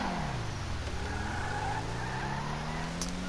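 A Pegassi Zorrusso supercar braking hard in GTA Online: engine note falling steadily as the car slows, with tyre scrub and road noise throughout, no talk.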